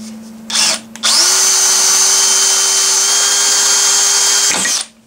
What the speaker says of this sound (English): so I'm just going to try and drill it out.